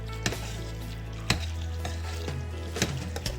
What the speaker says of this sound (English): now you want to stir that in, incorporate those eggs so that those eggs don't cook